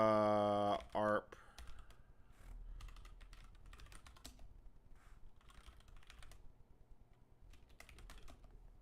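Rapid clicks of a computer keyboard as a sudo arp command is typed to fix ARP tables for TCP/IP over amateur radio, a faint, irregular run of close keystrokes after a short burst of loud tone at the start.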